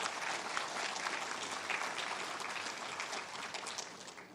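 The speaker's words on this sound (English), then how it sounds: "So if we can get a quick round of applause for all those that contributed." Steady, dense applause from a seated crowd at a military change of command ceremony, continuous clapping at an even level throughout, filling the room without voices on top.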